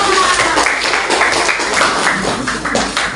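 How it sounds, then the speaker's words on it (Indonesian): A classroom of students claps for a group returning to their seats, a dense patter of hand claps filling the short stretch with a few voices mixed in. "Kasih tepuk tangan."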